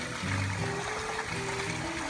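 Dirty water drains out of an aquaponics sand and gravel filter in a brief, fairly quiet, continuous trickling rush.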